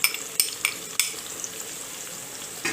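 Onion frying with ginger-garlic paste and a little ground green chilli for a brain fry masala: a steady close sizzle, broken by several sharp spoon scrapes and clinks against the pan as it is stirred, with no talk.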